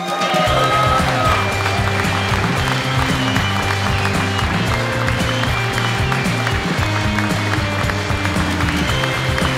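A crowd at an aerospace maintenance competition applauds a team, a dense, continuous wash of clapping and noise that holds steady and loud throughout.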